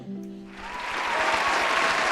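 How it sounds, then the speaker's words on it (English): A brief tone fades out as a crowd bursts into applause, the clapping growing into a full, steady roar. "Round of applause."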